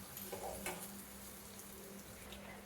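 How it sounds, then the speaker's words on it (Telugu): Washed moong dal frying in a pan for Rayalaseema-style amaranth dal fry, a faint, steady low sizzle with a few soft stirring clicks near the start. "కడిగి పెట్టుకున్న పెసరపప్పు వేయాలి ఫ్రెండ్స్ ఇది కూడా మంచిగా ఫ్రై చేసుకోవాలి ఒక ఫైవ్ మినిట్స్"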